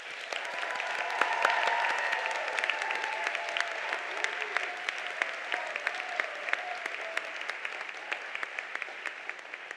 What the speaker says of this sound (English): Let's all give our graduates a round of applause.